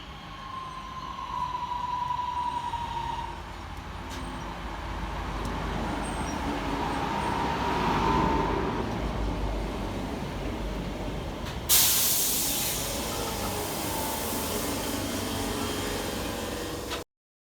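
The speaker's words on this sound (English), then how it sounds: "here comes 323-233, running 5 minutes late with the 1420 Northern service from Crewe through" Northern class 323 electric unit 323-233 pulls into Mauldeth Road station in the rain, bringing a steady rumble and wet hiss that swells as it nears, with a sharp louder burst partway through.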